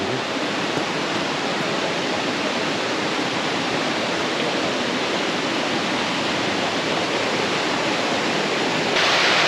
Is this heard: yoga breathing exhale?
no